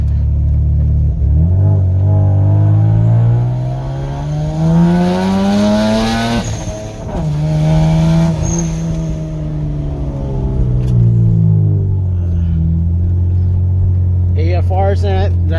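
A 2005 Hyundai Tiburon with a turbocharged 2.7L V6 revs up and down at open throttle, engine pitch climbing and falling in long sweeps, loud and close, with turbo noise on top.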